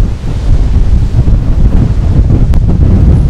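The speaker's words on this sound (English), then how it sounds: "the rain is slowing down a little bit, it comes in waves like that" Wind and rain roar steadily inside a parking garage in Miami, a loud, continuous broadband wash of gusts and downpour with one brief sharper tick near the end and no voices.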